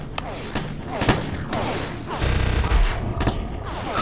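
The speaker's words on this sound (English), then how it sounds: "My gun is firing a lot quicker than it normally does" A glitched gun in Forspoken fires in a rapid, dense stream of sharp shots, loud and close, with bursts of impact crashes and booms layered over continuous game noise.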